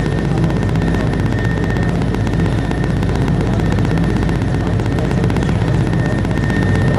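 A helicopter drones loudly and steadily from inside the cabin as it hovers about 150 feet up, a dense continuous rotor-and-engine roar with a fast pulsing chop and no break.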